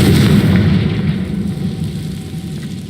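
A Confringo fire spell bursts in Hogwarts Legacy, a loud, booming explosion with a deep rumble that starts at full force and slowly rolls away over a few seconds.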